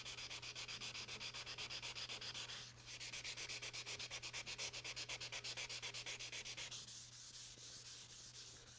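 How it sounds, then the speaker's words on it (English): Hand sanding on parts of a Unisaw table saw being restored, a fast, even back-and-forth rasp that runs without a break, close and moderately quiet under a low steady hum. "now down here you want to sand right up to the edge using the flat of your hand and your fingers"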